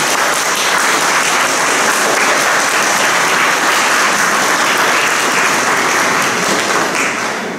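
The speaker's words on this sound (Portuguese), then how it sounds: "Essas palmas significam o assentimento ou a aceitação." A church congregation in a parish church claps in approval, producing a loud, dense and continuous burst of applause that holds steady and trails off at the very end.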